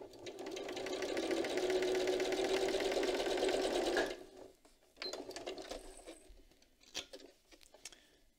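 Domestic sewing machine stitching a rolled hem with a rolled hem foot, a fast steady mechanical whir for about four seconds that stops abruptly, followed by a few quiet handling clicks and rustles.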